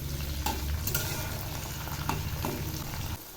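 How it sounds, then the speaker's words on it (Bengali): Chunks of potato and tomato frying in an oiled pan, a steady moderate sizzle broken by a few soft scraping stirs of a spatula before it briefly quiets. "আবার একটু নেড়ে দিচ্ছি।"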